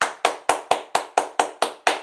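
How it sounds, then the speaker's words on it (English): Nine crisp hand claps in a steady, even rhythm, each a sharp close burst with a quick decay, performed alone with no other sound between them. "10 claps for her"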